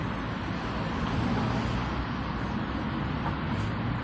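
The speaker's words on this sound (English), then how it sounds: "There's a lot of cars traveling up and down Highland, so you'll hear a lot of traffic." Cars travel up and down Highland, a busy road, making a steady, even rumble of traffic from a moderate distance, with no speech.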